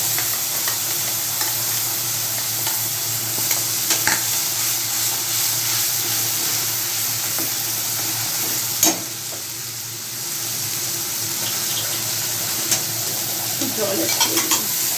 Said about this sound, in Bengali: এটাকে কষিয়ে নিচ্ছি